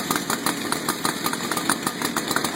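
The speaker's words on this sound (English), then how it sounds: "I'm going to slowly bring the revolution from low to high so that it works in all ranges." A chainsaw engine runs near the microphone at a fairly low speed, its rapid, even firing pulses beating in a steady rhythm during a routine daily saw check.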